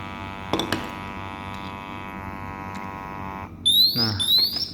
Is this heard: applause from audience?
no